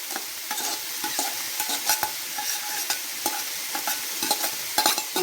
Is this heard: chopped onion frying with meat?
yes